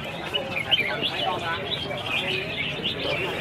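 Red-whiskered bulbuls sing at a bird singing contest, a dense chorus of bright chirps and warbling phrases that overlaps continuously against crowd noise, with voices faintly present.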